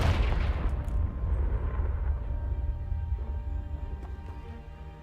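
A Confringo fire spell bursts against a pile of debris in Hogwarts Legacy, with a heavy booming blast up front that rolls into a long, fading rumble and scattered crackling debris.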